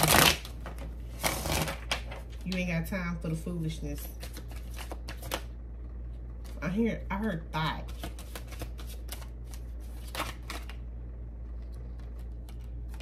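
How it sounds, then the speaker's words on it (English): Tarot cards are shuffled in quick riffling bursts, crisp and close, while someone talks in between the shuffles. "hold on. I got to shuffle."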